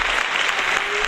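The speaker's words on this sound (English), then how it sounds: "that applause is so loud, J-Rod." Loud, dense applause from a studio audience, a steady unbroken wash of clapping filling the whole moment without any voices above it.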